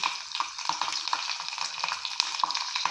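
Garlic frying in a pan of oil for a restaurant-style gravy cooked with little oil, giving a steady close sizzle with light stirring scrapes throughout.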